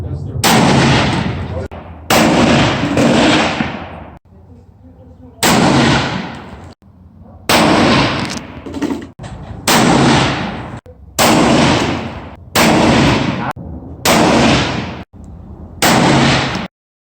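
Loud, sharp rifle reports from a Savage 111 LR and a Weatherby S2 in 7mm Remington Magnum fired at a Montana range, about ten booming shots spaced roughly a second or two apart, each with a long rolling tail.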